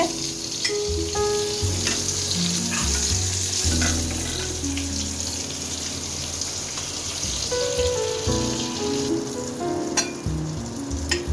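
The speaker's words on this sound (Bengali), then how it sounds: "মাছগুলো ভাজা কিন্তু আমার হয়ে গেছে" Pangas fish frying in hot oil in a pan for a taro and pangas curry, a steady dense sizzle with scattered crackles and pops, close and fairly loud, with some faint kitchen noises beneath.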